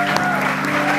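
A TV studio audience applauds on a talk show, giving a short burst of dense clapping under a speaking host.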